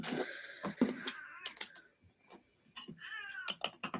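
A house cat meows repeatedly at a closed door, several drawn-out calls mixed with keyboard typing and light clattering nearby indoors.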